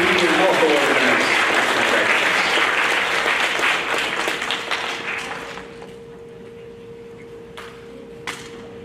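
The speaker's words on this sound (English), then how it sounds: "How about a round of applause for our teaching and health award winners?" An audience at a sixth-grade awards program gives a dense round of applause for teaching and health award winners, loud and sustained for about five seconds before fading into a quiet room with a few scattered claps.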